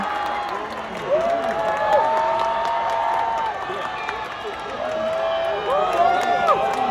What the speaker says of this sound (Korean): 영국에선 이렇게 환호를 안 했으니까